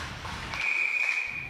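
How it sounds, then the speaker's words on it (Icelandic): A referee's whistle gives one sustained, steady blast at an indoor ice hockey game in a rink, loud and clear over the arena's background noise, lasting just under a second. "Hér er flautað"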